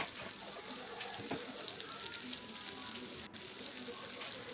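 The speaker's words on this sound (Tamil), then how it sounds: "இந்த வெங்காயம் கொஞ்சம் கலர் சேஞ்ச் ஆகிற வரைக்கும் இதை வதக்கிக்கணும்" Small onions and curry leaves sautéing in a pan give off a steady, soft sizzle with a few faint scrapes of stirring, moderately close and fairly quiet throughout.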